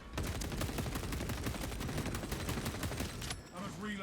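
A heavy bolt rifle firing in a shooter video game, a dense rapid stream of loud booming shots for about three seconds before stopping, with a short burst of other game sounds at the end.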